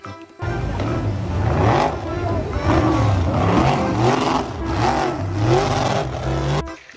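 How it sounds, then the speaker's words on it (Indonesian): Toy jet ski playing an electronic engine-revving sound effect, a steady buzzing drone with rhythmic surges that lasts around six seconds before stopping abruptly. "jet ski."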